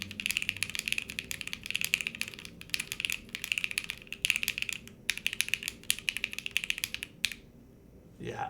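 Typing on an Altair split ergonomic keyboard produces rapid, clustered clacking keystrokes in bursts with brief pauses, close and moderately loud, ending with a short stop near the end.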